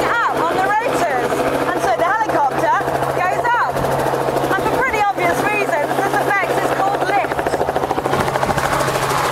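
A 2.5-ton helicopter runs loud and close throughout, its rotor and engine droning steadily while a person talks over it.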